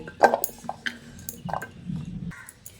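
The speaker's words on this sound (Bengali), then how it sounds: "এবার আমি গাঠি কচুগুলোকে একটা পাত্রে তুলে ভালো করে আরেকবার ধুয়ে নেব" Cut gathi kochu (taro) being washed in a bowl of water: close wet squelches and splashing dabs in short irregular bursts, with one longer swishing stretch before it falls quiet.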